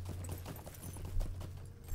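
Horse hooves clip-clop steadily at a walking pace in the Lord of the Rings Online video game, a rapid run of hoofbeats over a low droning game background.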